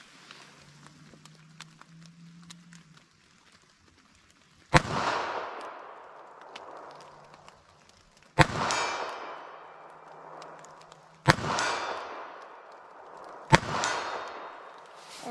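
Shots from a .32 ACP pocket pistol firing FMJ ammunition at a range, four sharp cracks spaced a few seconds apart, each ringing and decaying briefly, with faint background hum between them.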